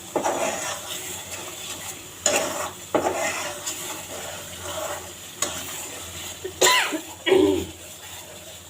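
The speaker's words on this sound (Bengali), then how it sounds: "আস্তে আস্তে জাল দিয়ে সুন্দর করে মশলাটা ভেজে নিতে হবে।" Spices frying for mango pickle over a low flame, with scraping stirs in the pan recurring every second or so over a soft sizzle, plus a cough or two nearby.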